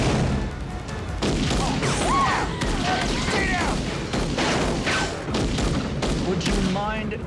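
Dense gunfire crackles and booms in rapid, overlapping bursts, loud and continuous. Shouting voices cut through the shooting, with no clear pauses between shots.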